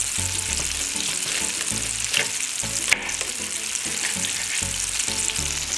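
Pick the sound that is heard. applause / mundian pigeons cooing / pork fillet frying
pork fillet frying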